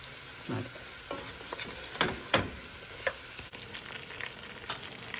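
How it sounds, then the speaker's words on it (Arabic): Chicken frying in a pan over low heat with a soft background sizzle, broken by a few close scraping stirs and clinks of a utensil against the pan. "نخلوه يتقلى على نار قليله حتى يتحمر لنا الدجاج"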